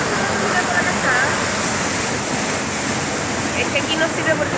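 A waterfall in Chile roars as a loud, continuous rushing wash, with people talking faintly over it.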